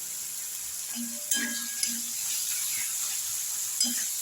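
A homemade ground spice mix of cumin, coriander, cinnamon, clove and cardamom frying in a pan, with a steady soft sizzle and a few brief clinks of a spoon against the pan.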